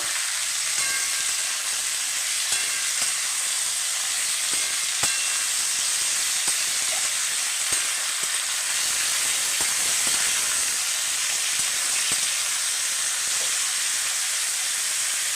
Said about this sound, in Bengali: আমি দু মিনিট ধরে একটু ভেজে নেবো